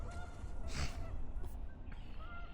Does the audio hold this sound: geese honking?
yes